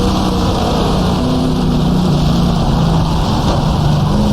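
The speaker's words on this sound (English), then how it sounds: "Alphas are such a loud car" A loud Alfa Romeo sportscar engine roars steadily in the GTR2 racing game at the 1966 Monza 1000km, a dense continuous drone with shifting pitch tones and no voices.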